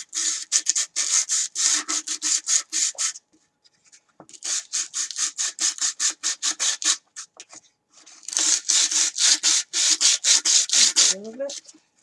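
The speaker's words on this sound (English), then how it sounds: "I'm also going to sand the box itself" Rough wooden box being sanded by hand: rapid back-and-forth rasping strokes in three long bursts separated by short pauses, close and fairly loud, with a brief squeak near the end and no talking.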